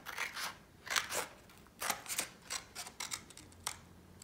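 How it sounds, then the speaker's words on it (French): Scissors cut paper in short bursts of snips, trimming just inside a drawn line while building a pop-up arch with an automatic strap, close and fairly quiet with no talking. "Et je vais couper en fait légèrement à l'intérieur de mon trait"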